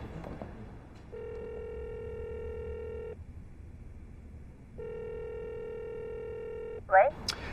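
A telephone ringback tone sounds twice: two long, even electronic tones of about two seconds each, separated by a pause, followed by a brief voice at the end.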